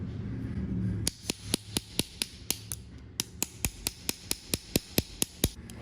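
A brake lever pivot pin on a BMW R1200GS motorcycle is hit repeatedly to drive it out, a quick steady series of sharp metallic taps, about twenty in all, close and distinct, with no talking.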